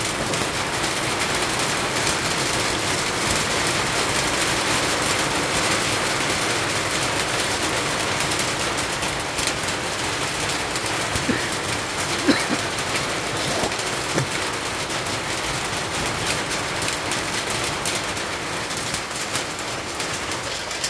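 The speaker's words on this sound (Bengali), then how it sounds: "প্রচুর বৃষ্টি হচ্ছে, প্রচুর।" Heavy rain pours steadily in Gazipur district, a dense, constant hiss of drops drumming on surfaces at close range with no letup for the whole stretch.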